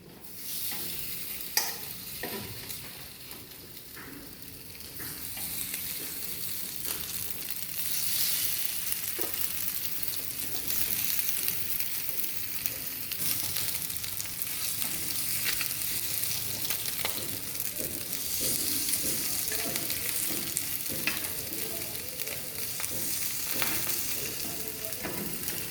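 Fish laid in olive oil in a pan sizzles and crackles steadily at close range, with occasional stirring and scraping sounds and no talk over it.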